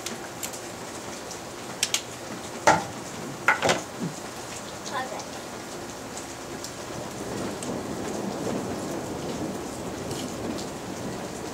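Steady rain falling during a thunderstorm in Jordan, with several sharp thunder cracks early on and then an even, continuous hiss of rain on surfaces.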